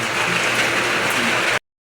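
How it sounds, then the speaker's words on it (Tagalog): Heavy rain pours onto a roof under construction, heard from underneath as a loud, continuous wash of drumming and dripping water before it cuts off abruptly. "Malakas ang ulan, lakas pa ng tulo."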